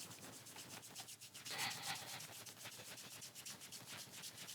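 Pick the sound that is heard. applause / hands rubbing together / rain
hands rubbing together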